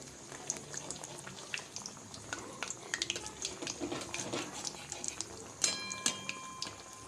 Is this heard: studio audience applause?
no